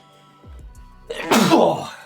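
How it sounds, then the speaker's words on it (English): A single sneeze from a person in a hotel, a sharp burst preceded by a brief intake of breath, fairly close and loud, following some faint low-pitched voice sounds. "They sneeze."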